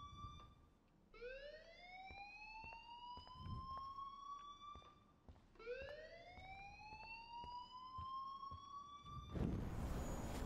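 Wailing police and fire sirens from a video game sweep upward repeatedly in long rising tones, two cycles in a row, ending in a burst of broadband noise.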